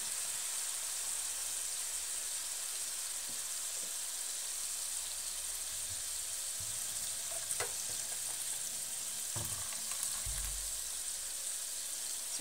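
Tomatoes sautéing in a pan at home, a continuous bright sizzle with occasional soft clinks and stirring knocks, steady and close, with no voices.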